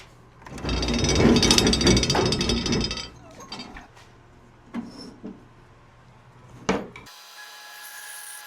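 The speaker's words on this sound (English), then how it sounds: "run them through the bandsaw, cut them in half, so we can get 2 pieces out of every one" A bandsaw rips oak boards in half, with a rasping cut of about two and a half seconds, then a few knocks and clatters of wood being handled before a quiet tail.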